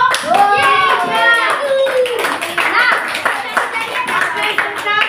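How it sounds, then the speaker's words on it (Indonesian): A classroom group claps for a student team, a loose burst of hand claps close by, with children's voices and chatter mixed in throughout. "tepuk tangan dulu untuk kelompok 3"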